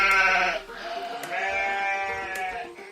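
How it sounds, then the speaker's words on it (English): A sheep bleats in a farm barn, several drawn-out wavering cries in a row, close and clear with no voices. "It's a sheep."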